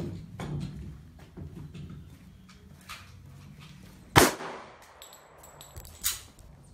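A SIG Sauer P226 MK25 pistol fires two sharp, separated shots outdoors, the first loud and close, the second a little softer, over faint background rumble.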